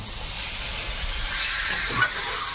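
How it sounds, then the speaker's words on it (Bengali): Meat going into a cooking pot with a little water, part of a country chicken curry, giving a steady steamy hiss with faint clinks and a brief louder splash near the end, no talking. "এবারে এর মধ্যে মাংসটা দেবো, জল সামান্য"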